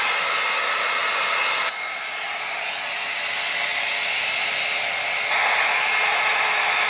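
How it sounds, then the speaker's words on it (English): A Mermaid Hair blow dry brush runs steadily as it dries hair, a loud, continuous close-up whoosh of air whose tone shifts slightly when the speed setting changes partway through, with no talking. "I'm using my Mermaid Hair Blow Dry Brush"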